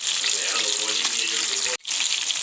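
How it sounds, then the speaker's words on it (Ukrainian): Steady loud sizzling of bream frying in a pan, a continuous hiss with a brief dropout near the end. "І викладуємо на сковорідочку і смажимо."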